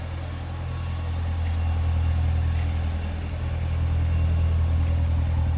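A 2017 Corvette engine idling with a deep, steady exhaust rumble, loud and close, holding a low droning tone throughout without voices.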